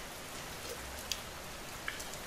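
Steady rain falls on a rainy afternoon, a soft, even patter close by with a couple of sharper drips standing out, and no voices.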